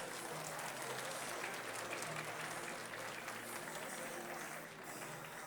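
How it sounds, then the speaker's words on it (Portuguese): An audience at an executive awards launch event applauds, a dense continuous roar of clapping that holds steady for several seconds, with faint voices mixed in. "Uma salva de palmas a eles, uma salva de palmas."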